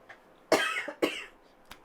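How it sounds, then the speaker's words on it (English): A person coughs two sharp times in quick succession, then gives a smaller throat-clearing cough, close to the mic in a quiet indoor room with no talk. "sorry guys, my cough is gone"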